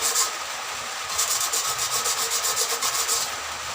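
Steady rhythmic scraping of sandpaper against a metal cooking pot, quick back-and-forth strokes repeating evenly, close up and continuous with no talking.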